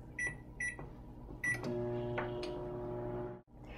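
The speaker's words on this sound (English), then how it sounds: "Place the container of wax into the microwave and heat on high for 5 minutes." Keypad beeps sound a few times, then a microwave heating a container of soy wax on high starts up with a steady low hum and drone before it cuts out.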